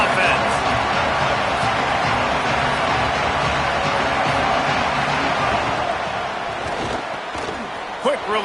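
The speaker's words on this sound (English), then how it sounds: "This crowd trying to make life miserable for this offense." Loud, steady stadium crowd roar fills a College Football 27 video game broadcast, a dense continuous wash of noise with sharper impacts near the end and commentary talking over it.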